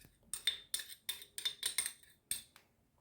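A teaspoon stirs baking soda into milk, rapid rhythmic clinks of metal against the bowl or cup, about eight quick strikes, close and clear with no talking.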